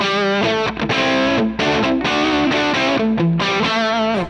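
Electric guitar through a Line 6 Helix amp model with the hum parameter turned up full, a distorted, sustained chord progression played loud and continuous with brief gaps between changes.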